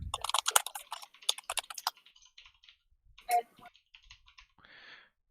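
Code typed on a computer keyboard in VS Code: bursts of close, crisp key clicks, dense at first, then sparser taps and a couple of louder clacks, with no talking.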